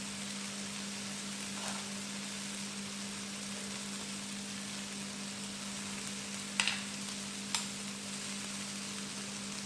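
Tomato puree stirred into frying onions for masala bhindi, with a constant gentle sizzle and a couple of faint spoon taps against the pan.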